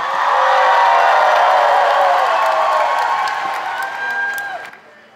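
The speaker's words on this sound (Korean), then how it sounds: "큰 박수로 환영합니다" A large audience at an event with the Pope in Korea gives loud, sustained applause with cheering to welcome young people from Cambodia, Hong Kong and Korea, swelling for several seconds before tapering off.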